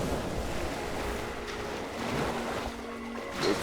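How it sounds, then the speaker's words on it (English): Ocean waves wash steadily onto a beach in a continuous, rumbling surf, with gusts of wind buffeting the microphone. A slightly louder swell comes near the end, and there is no talk. "you can listen to the ocean"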